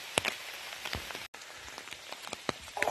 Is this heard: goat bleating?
no